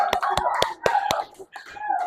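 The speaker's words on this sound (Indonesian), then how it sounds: "Berikan tepuk tangan Bapak Ibu." Audience applause at a gathering: about six sharp, evenly spaced claps ring out close by, then fade into brief scattered vocal sounds.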